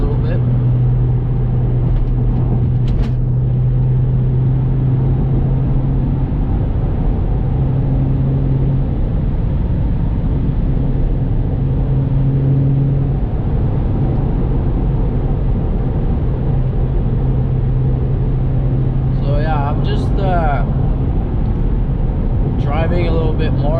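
An 8th generation Honda Accord driving, with a steady low engine and road drone throughout and a few brief higher whines, heard from inside the cabin under continuous talk.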